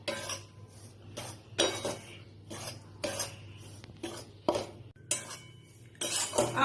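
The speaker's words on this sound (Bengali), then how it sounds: "বেসন দিয়ে দিলাম, দিয়ে একটু ভালো করে নেড়ে নেড়ে একটু হালকা একটু ভেজে নেব" A utensil stirs and scrapes besan gram flour as it roasts in a pan over low-to-medium flame for ladoo, in rhythmic bursts of scraping and clinking with short pauses between strokes.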